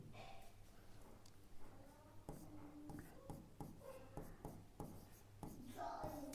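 A topic is written on a classroom board in short scratching and tapping strokes, with a soft voice talking between them.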